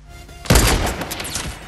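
A single heavy sniper rifle shot fires in Fortnite Battle Royale, a sudden loud blast after a quiet moment, followed by a booming tail that echoes and fades over about a second.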